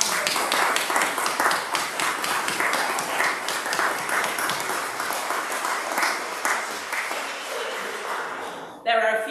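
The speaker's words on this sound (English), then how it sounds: "And can we please give them a big clap?" A church congregation at a harvest festival Eucharist claps in a steady, fairly loud round of many hands, holding for about nine seconds before cutting off abruptly, with a brief burst of sound at the very end.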